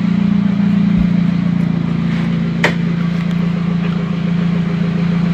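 Nissan 240SX S13 engine idling, with a brake booster vacuum leak, a loud, steady low hum close up that holds an even pitch throughout, with one brief sharp click partway through and no talking.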